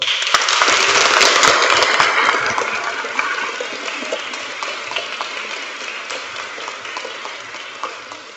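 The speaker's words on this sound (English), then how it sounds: "Round of applause, folks." An audience at a Year 6 school leavers service breaks into loud, full applause from many hands, strongest at the start and then gradually thinning and fading over several seconds.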